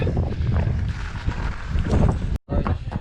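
Strong, steady wind roars and buffets the microphone throughout, with a brief dropout near the end.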